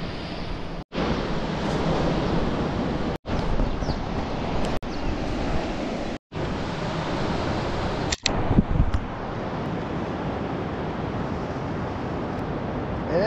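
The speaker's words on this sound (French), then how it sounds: "On entend les vagues, c'est bon signe." Surf breaking steadily on a beach at Saint-Gilles-Croix-de-Vie in Vendée, a continuous broadband wash with wind noise over the microphone, broken by a few brief dropouts.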